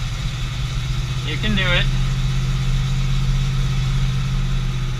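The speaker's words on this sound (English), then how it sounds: "I hate revving an engine so fast right off the gun." An old grain truck engine runs at a steady, rough idle after its carburetor has been filled, a close, loud low rumble, with a person speaking briefly over it.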